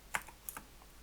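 Quick keystrokes on a computer keyboard, a few soft clicks in a short burst, close and quiet.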